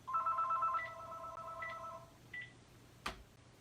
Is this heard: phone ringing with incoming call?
yes